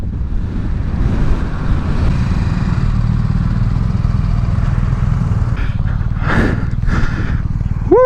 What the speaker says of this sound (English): pulling in to finish up the ride on the 310 GS